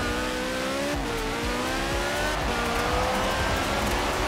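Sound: car driving in the video game Forza Horizon 4

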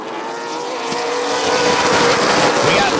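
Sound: late model race cars racing at Rockford Speedway

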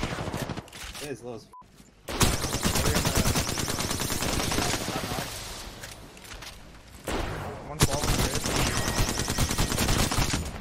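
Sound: gunfire in the video game Apex Legends

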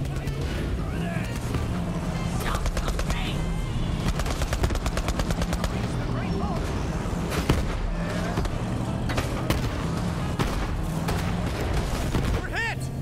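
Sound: turret gunfire in Borderlands 3 video game

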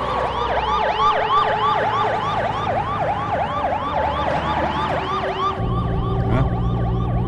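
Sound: siren on an official car

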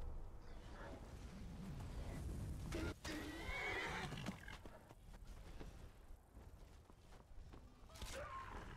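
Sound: pony neighing in the video game Skyrim

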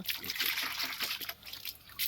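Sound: pouring water to wash

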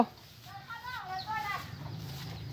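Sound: chicken clucking

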